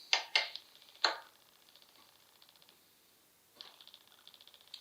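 A bicycle pedal threaded back into the crank of a Cinelli Vigorelli fixed-gear bike, with a few sharp metallic clicks followed by quiet rapid ratcheting ticks, close and fairly faint.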